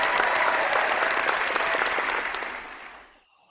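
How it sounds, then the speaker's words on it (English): Thick, steady hand clapping fills a tabletop Strat-O-Matic football game session, then tapers off quickly and ends in near silence. "And someone unintentionally clapping here."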